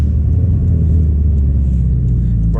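A Subaru STI on a big-turbo setup with a Tomei exhaust pulls hard, its loud, deep, rumbling engine note droning steadily close by with a rising rev toward the end.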